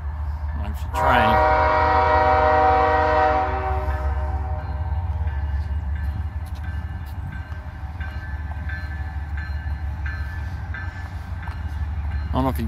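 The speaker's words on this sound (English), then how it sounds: "There's a train." A horn-blowing train passes through small-town Valley Head, Alabama: a loud, close multi-tone horn blast for a few seconds, then the continuous rumble and clatter of railcars rolling by, with fainter horn notes near the end.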